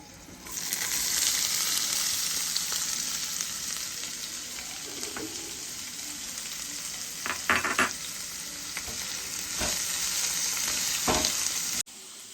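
Onions frying in hot oil for mushroom fried rice give a steady, close sizzle with a few sharper crackles and stirring scrapes. No one speaks.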